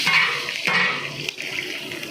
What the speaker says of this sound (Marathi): मसाला चांगला तडकल्यानंतर त्यामध्ये टाकूया बारीक कापलेला कांदा।